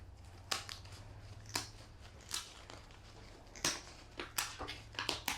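Sharp snipping cuts at irregular intervals, about eight crisp scissor snips through Muscovy duck flight feathers over a low steady hum, close and distinct.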